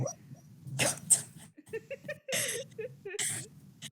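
A sleeping dog whimpers in a cartoon, with several short high whines and yips in separate bursts, close and fairly loud, mixed with voices.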